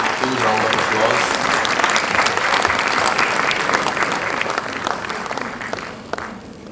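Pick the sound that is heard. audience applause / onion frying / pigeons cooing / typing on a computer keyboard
audience applause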